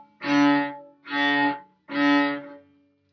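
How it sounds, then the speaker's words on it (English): Three separate bowed notes played on a string instrument with a martelé, hammered stroke, each starting with a sharp bite and stopping cleanly, set off by short silences, close and clear with no talking. "The martelé bow stroke sounds a little like this."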